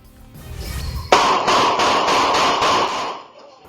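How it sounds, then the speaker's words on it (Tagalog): Successive gunshots in a barangay of San Jose del Monte, Bulacan, caught in news footage: a sudden loud crack followed by a rapid, even string of about seven sharp reports, then quiet. "Umalingaw-ngaw ang sunod-sunod na putok ng baril sa barangay Graceville, San Jose del Monte, Bulacan nitong Biyernes."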